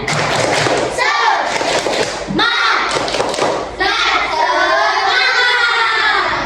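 Schoolchildren in a classroom do a rhythmic spirit clap, bursts of loud clapping and thumping mixed with their chanting voices, in several quick phrases with short pauses between them.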